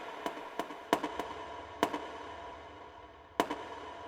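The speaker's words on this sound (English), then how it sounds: "I open them up and I say fire, and there's this explosion." An explosion is set off for a photograph: a series of sharp cracking bangs at irregular intervals over a steady low background, with some blasts coming in quick pairs and one last loud crack after a pause.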